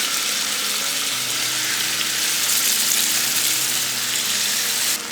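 Small chicken pieces frying in a pan for Irani pola, a loud, steady broadband sizzle that holds unbroken throughout, with no talk over it.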